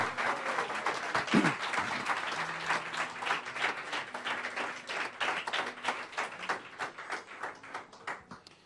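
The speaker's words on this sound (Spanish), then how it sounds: "Dale un fuerte aplauso al Señor" A church congregation at a worship service claps together in a fast, rhythmic beat. Crisp, closely spaced claps hold steady with faint tonal sounds underneath.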